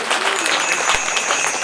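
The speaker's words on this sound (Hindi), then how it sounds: "इनके लिए 2 बार तालियां बजाएं" Applause from the audience at a Devi Bhagwat Katha religious discourse rings out as dense, lively clapping, loud and close throughout, with a few crowd voices mixed in.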